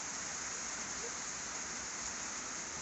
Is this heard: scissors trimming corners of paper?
no